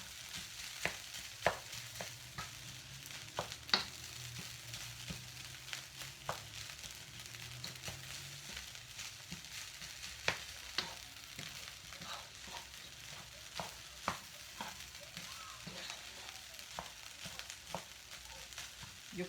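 Vegetable fried rice with Chinese spices stir-fries in a pan with a faint, continuous sizzle and scattered light clicks and taps of a utensil tossing the rice, all fairly quiet.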